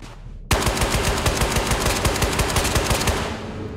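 A sustained burst of automatic gunfire in the shooter Ghosts of Tabor: rapid, evenly spaced shots hammer for about three seconds after a sudden start, loud and close, then trail off.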